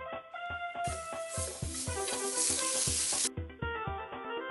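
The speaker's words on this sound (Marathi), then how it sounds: "केंद्राकडनं बाहेरच्या बाजूला तो फिरवून झाला की चुर्र असा आवाज आला पाहिजे" Water sizzles on a hot iron tawa griddle with a sharp hiss that rises and holds for a couple of seconds before fading, set over rhythmic background music.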